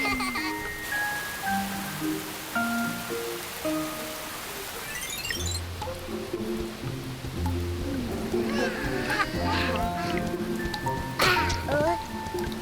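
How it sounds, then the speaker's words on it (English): Spring rain falling outdoors near a hill, a steady dense patter with scattered drips and splashes throughout, under faint musical tones. "Rain sounds funny!"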